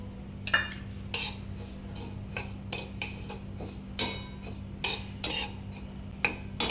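Cumin seeds dry-roasting in a pan, with a spoon scraping and clinking against the metal in irregular bursts of stirring over a quiet background.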